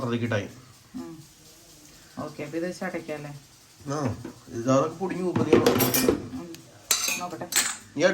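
Dishes and pots clink and clatter during tea preparation, with metallic knocks and scrapes mixed under frequent close conversation.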